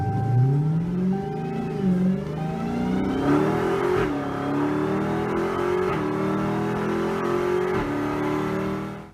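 A supercharged 6.2-liter Hellcat Hemi V8 revs repeatedly, its pitch climbing on each blip before dropping back and rising again. The engine is loud, close and alone, with no voices over it.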